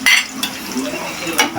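Sliced Korean luncheon meat fries in a pan with vegetables, a steady close sizzle broken by a few scraping stirs, with no talk over it.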